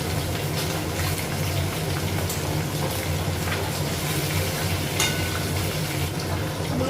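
Fish frying in a pan of oil in a home kitchen, a constant close, loud sizzle with bubbling crackle and occasional sharp pops, no voices.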